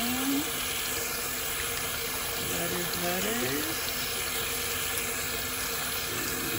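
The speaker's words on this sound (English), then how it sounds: "Some water. Running under the water." Water running from a sink tap in a steady continuous rush, fairly loud and close, while a person speaks briefly over it.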